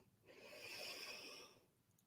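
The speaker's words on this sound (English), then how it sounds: "breathe it in and audibly exhale" A long, soft exhale during a loving-kindness meditation, breath pushed out audibly through the mouth or nose for about a second and a half, close and quiet with no talking.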